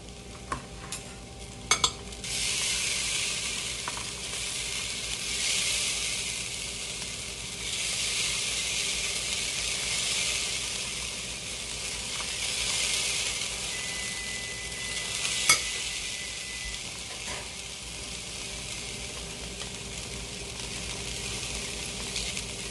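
Beef chuck short ribs sear in a hot pan with a steady, loud sizzle, broken by a few scraping stirs and clatters early on; no one speaks.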